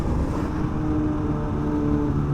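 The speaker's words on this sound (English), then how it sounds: "Interesting, this bike is not popping while I'm shifting." A Kawasaki Ninja H2 motorcycle engine drones steadily and loudly while shifting through gears, with rushing wind noise mixed in and no pops or backfires.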